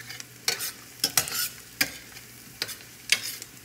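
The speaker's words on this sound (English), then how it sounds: "Add the garlic to the onions and let that cook." Chopped fresh garlic and onions fry in a pan with a soft sizzle, broken by about half a dozen sharp scraping stir strokes at uneven intervals, close and clear with no talking.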